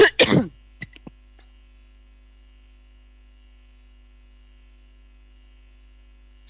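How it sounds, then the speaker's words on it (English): Coughing and throat clearing from a lecturer during a neuroscience conference talk: a short burst of rough coughs at the start, a couple of small throat-clearing sounds, then near silence over a faint steady hum. "Hopefully my cough will settle."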